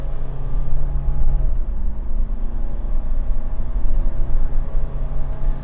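A 2022 Mitsubishi Montero Sport Black Series with automatic transmission accelerates under paddle-shifter control, a steady low engine drone with droning road rumble that holds loud and even throughout, no talking.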